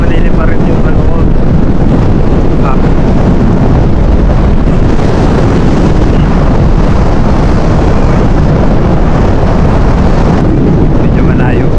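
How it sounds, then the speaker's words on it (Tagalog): Loud, relentless wind roars across the microphone near the seashore in Taiwan, a dense low rumble that never lets up for the whole stretch. "Mahangin."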